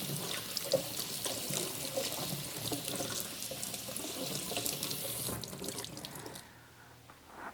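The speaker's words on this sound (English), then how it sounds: "Give it a quick rinse." Food rinsed under a running kitchen sink tap, a steady close rush of water splashing and spattering, then the flow cuts off near the end.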